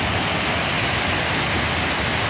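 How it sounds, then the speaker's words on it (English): The Deerfield River flows past the glacier potholes at Shelburne Falls, Massachusetts, with a steady, dense rush of water that carries on evenly throughout. No one speaks. "It's the Deerfield River."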